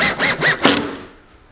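A power drill drives screws into pocket holes on an assembled RTA kitchen cabinet, three short whirring bursts followed by a final tightening squeal, close and fairly loud.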